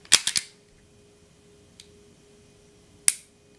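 Trigger clicks from a Springfield Armory Hellcat RDP pistol: a quick burst of three sharp clicks, a faint tick, then after a pause one more crisp click, all close and isolated.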